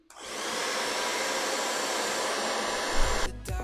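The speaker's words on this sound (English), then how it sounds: "In order to speed up drying, I'm going to use a blow dryer" A blow dryer drying a craft project runs steadily and loudly with a constant whooshing roar for over three seconds, then cuts off with a brief clatter at the end.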